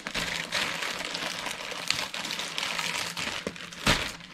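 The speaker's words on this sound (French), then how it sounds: "Donc, on déballe ça, mes 2 super toiles." Plastic packaging crinkles and rustles as two diamond painting canvases are unwrapped, close up, with irregular crackling bursts and a sharper tear near the end.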